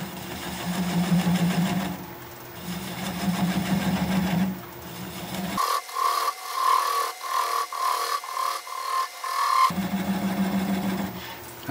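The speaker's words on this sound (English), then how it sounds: "I'm going to turn the speed down to about 400 RPM and just keep working it away" Wood lathe turning a bowl with a gouge at around 400 RPM gives a rhythmic whirring hum broken by a scraping, chattering stretch midway before the steady hum returns, close and moderately loud with no talk.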